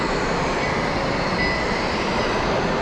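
Model trains run at a toy train show, giving a steady, dense rumble and roar that stays constant and fairly loud throughout, with no speech on top.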